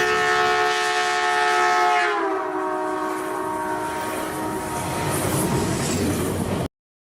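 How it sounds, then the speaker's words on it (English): A fast train passes with its horn blaring, a loud sustained tone that drops sharply in pitch as it goes by, then fades into a rushing rumble of the cars that cuts off abruptly. "we've had a look at some trains going past really fast and what they sound like"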